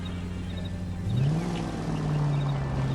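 Hudson Commodore car engine in the LA Noire video game, a steady low hum that rises slightly in pitch as it revs partway through, continuous and close, with no talk.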